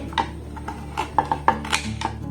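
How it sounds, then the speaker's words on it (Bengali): A knife chopping raw green mango into small pieces on a board, a series of light, uneven taps and clicks close up against a steady background hum. "এইরকম ছোট ছোট টুকরো করে কাটবো।"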